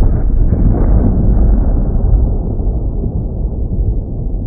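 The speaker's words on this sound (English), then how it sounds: "Did you just destroy Hawaii with a volcanic eruption?" A volcanic eruption sound effect, the blast that destroys Hawaii: a loud, deep rumbling roar that starts at full force and slowly fades over a few seconds, with no other sounds.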